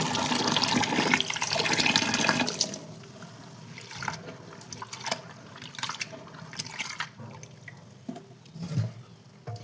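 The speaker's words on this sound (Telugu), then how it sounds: "దీన్ని ఇప్పుడు మనం శుభ్రంగా కడుక్కుందాము" Red lentils are washed in water, starting with a loud rushing pour and splashing, then quieter swishing, dripping and sloshing as the grains are rubbed and rinsed by hand nearby.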